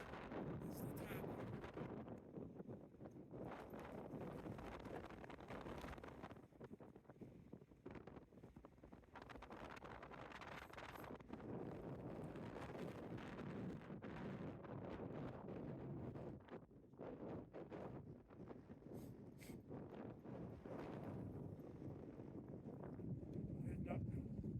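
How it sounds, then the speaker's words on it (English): Strong wind gusting across an exposed White Mountains summit, a continuous rough roar buffeting the microphone with surges and dips throughout. "It is windy up here."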